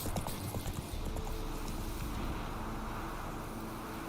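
Hooves of Roach, the horse in The Witcher 3: Wild Hunt, clip-clopping at a walking pace in a steady rhythm, moderately close, over a soft wind-like ambient bed.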